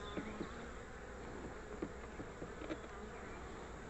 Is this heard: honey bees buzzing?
yes